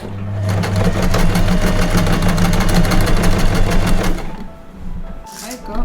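A sewing machine stitches culottes fabric in a fast, even rattle for about four seconds, then stops, with a voice talking over it.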